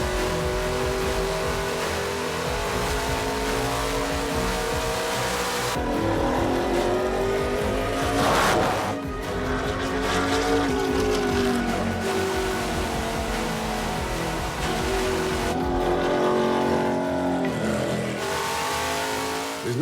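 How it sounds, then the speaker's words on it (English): A race car held in third gear accelerating smoothly out of a corner, loud and close, its engine note climbing steadily in pitch with brief dips at gear changes, continuous and with no talking. "He's accelerating out real smooth."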